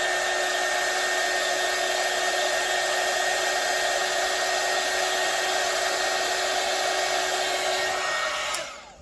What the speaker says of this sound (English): So I got my hot air gun.